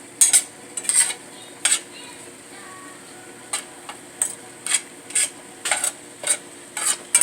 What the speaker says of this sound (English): here I have my turkey bacon and my bell peppers and onions in the pan, sauteing them first before I add my cabbage